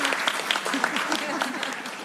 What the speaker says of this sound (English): They wanted to applaud